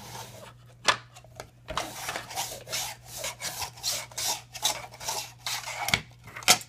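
Zucchini pushed across the fine-toothed blade of a LiBa mandoline slicer makes a run of rasping, scraping strokes in an uneven rhythm, close and fairly loud, with a steady low hum beneath.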